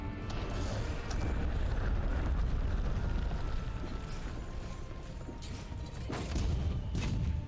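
Cannons fire in the video game Monster Hunter: World. Heavy booms and a rumbling roar sustain throughout, with a few sharper impacts near the end.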